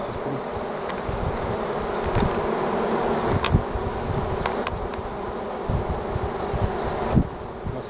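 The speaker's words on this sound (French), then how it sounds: "Un bel essaim." A swarm of honeybees buzzing around a hive, a dense, continuous drone of many insects close by, with occasional louder individual passes and small knocks, no talk.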